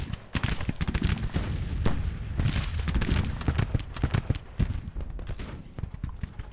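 Rifle fire crackles from troops in a Grand Tactician Civil War battle, a dense rolling fusillade of overlapping shots with sharp louder cracks standing out, sustained throughout with no pause.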